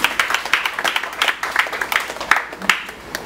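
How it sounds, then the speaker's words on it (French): Audience applauding at a conference, scattered, rhythmic hand claps at close range, moderately loud, with a few voices under them. "On applaudit s'il vous plaît."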